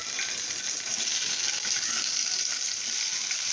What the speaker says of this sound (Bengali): এখন আমরা ডিমগুলো ভেজে নেব।